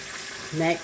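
Pork chops frying in a pan, a soft, steady sizzle heard close but quiet, with a brief murmur of a voice rising over it near the end.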